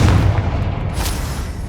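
Confringo blasting spell explosion in Hogwarts Legacy, a loud booming blast with a heavy low rumble lasting the whole moment, with no talk.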